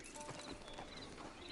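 Horse hooves clip-clop in Red Dead Redemption II, a steady close trotting patter that fills the whole short stretch with no talk over it.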